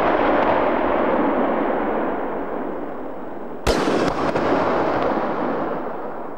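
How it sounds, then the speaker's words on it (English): A 120mm inert tank practice round strikes its target with a single sharp, loud crack about midway, cutting through a steady broad roar of wind and distant noise that continues before and after the impact. "This hit shows the excellent accuracy of the 120mm inert round."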